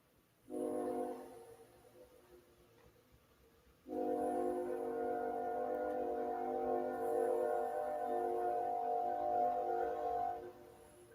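A train horn blows loud and sustained in two long blasts, a short one first and then a longer one, with the rumble of a passing train beneath.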